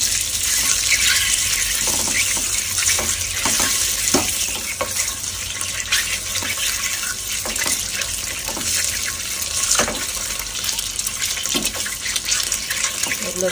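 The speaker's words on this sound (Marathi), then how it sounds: "जराशी हळद टाकते, मसाला टाकते, जराशी कोथिंबीर टाकते आणि चांगले फ्राय करून घेते" Turmeric, masala and coriander frying for a Malvani egg curry masala, a loud continuous sizzle close by with scattered crackles and scraping, with no talking.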